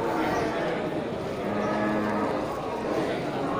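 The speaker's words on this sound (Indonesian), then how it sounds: "ini sapi jantan punya Bang Moli ini kan di Pasar Hewan Gelumpang Payung" A bull moos at the Gelumpang Payung livestock market, a long, low, drawn-out call heard over the steady murmur and bustle of the market crowd.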